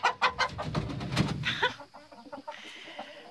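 Backyard hens clucking near their nesting boxes, with a rooster in the flock, give a run of short, close, choppy calls that grow louder, then fade into quieter scattered clucks.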